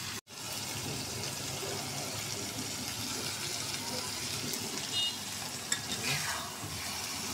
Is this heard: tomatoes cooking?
yes